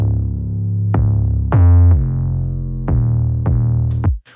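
A sub bass made from a sine wave in Massive, compressed, distorted and EQ'd, plays several loud sustained low notes with sharp attacks, heard alone with no talk.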